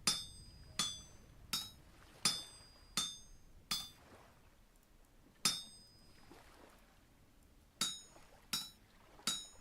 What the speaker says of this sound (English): Well, more like hammering away instead of mining away.